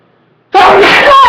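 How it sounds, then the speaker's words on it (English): A single loud, close human sneeze bursts out abruptly after a moment of near silence, with a forceful explosive onset and a short trailing vocal tail. "Finally, my sneeze happened!"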